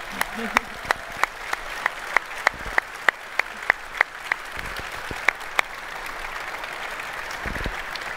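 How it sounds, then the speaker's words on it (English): Applause from an audience fills the room steadily, with a few sharp individual claps standing out; a voice briefly speaks over it. "Please give my artists, my guests, a round of applause."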